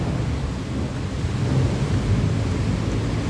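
Steady rain falls with a low, continuous rumble of thunder beneath it, a dense wash of outdoor noise with no talking.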